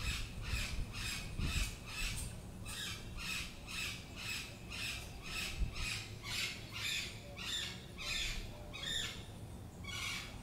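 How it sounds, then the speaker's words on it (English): Parrots squawking in the background, a steady series of harsh, repeated calls at moderate distance, roughly one per second, heard alone. "Now you can hear the parrots squawking in the background"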